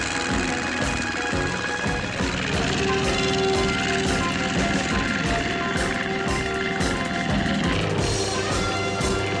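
A propeller airplane roars overhead during an aerial fight scene in a television action drama, a loud, unbroken engine drone with a rapid rhythmic chop that stays close and dominant the whole time.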